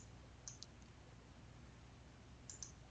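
Computer mouse clicks during software work: two quick pairs of faint, crisp clicks about two seconds apart, with no talking.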